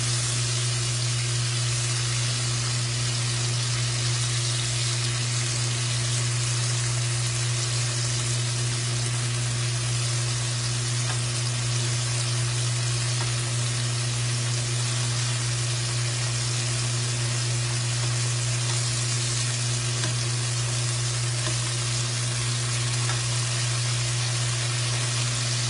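Portobello mushroom steaks sizzle steadily in a frying pan, a continuous broadband hiss and crackle with a low steady hum underneath, no talking.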